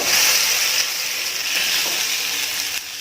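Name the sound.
fish frying in oil in banana leaf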